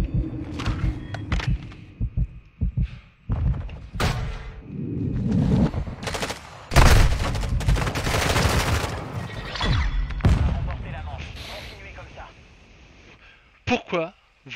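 Video-game gunfire pours in from several shooters at once in dense, crackling bursts, then thins to scattered shots. A voice talks loudly throughout.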